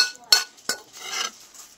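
Spiced pumpkin stir-fry made with five-spice seeds is tipped onto a plate, giving two sharp metallic clinks of a utensil against the dish followed by a soft scraping slide, close and quiet.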